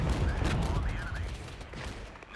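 Gunfire and mortar fire in the Cold War strategy game Regiments, a continuous din of distant shots and dull thumps rolling under a busy battlefield mix, with someone talking over it.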